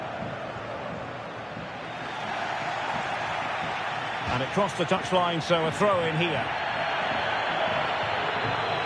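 A stadium crowd in the FC 25 football video game keeps up a constant roar as a commentator calls play over it.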